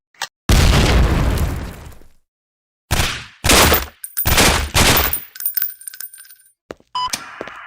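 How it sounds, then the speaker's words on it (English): In the flash game Sierra 7, a breaching charge explodes with a loud boom, followed by sharp bursts of gunfire and clinking metallic impacts, separated by brief silences. "To detonate your breaching charge, hold down the primary fire button."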